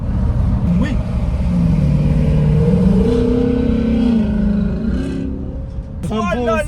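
A Shelby car at a classic car show in Lyon revs and accelerates with a loud, throaty engine rumble that rises and falls, while excited voices talk over it nearby.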